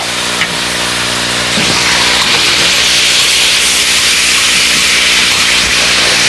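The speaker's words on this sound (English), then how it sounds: "we take all of this squash, we put it in the butter with the garlic, and I'm going to stir it up a little" Spaghetti squash being stirred and tossed in butter with garlic in a pan, a steady close sizzle with soft scraping and rubbing strokes running throughout, no voices.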